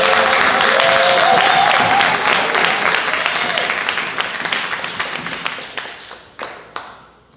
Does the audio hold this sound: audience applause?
yes